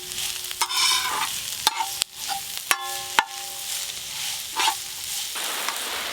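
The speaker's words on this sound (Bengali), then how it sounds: "সবজিগুলো বেশ ভালো করে ভাজা ভাজা করে নিয়েছি।" Carrot, onion and other vegetables are stir-fried for egg chowmein, a light sizzle broken by sharp spatula scrapes and clanks against the pan at an uneven pace, with no speech.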